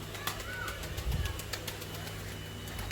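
Pigeons flap their wings in quick repeated bursts, and a low soft coo sounds near the middle, fairly quiet against outdoor background noise.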